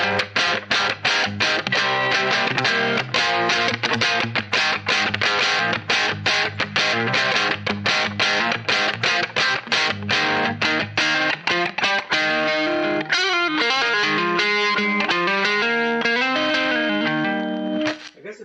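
Electric guitar played through a JHS Pack Rat distortion pedal at low gain, loud and continuous with rapid strummed and picked chords running almost the whole way before cutting off near the end.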